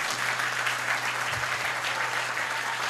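A church congregation applauding, with steady dense clapping that holds at an even level for the whole stretch, filling the room without any voices over it.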